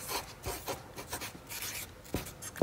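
A pen writing a message on a paper craft, with short scratchy strokes and brief pauses, close up and moderately quiet, with a couple of sharper taps near the end.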